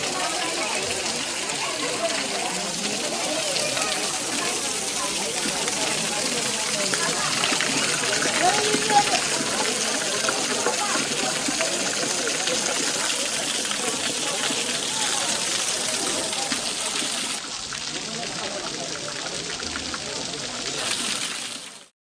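Water gushing at Papavinasanam dam in Tirumala where pilgrims bathe, a steady broadband roar of falling and splashing water that continues loudly throughout with crowd murmur beneath.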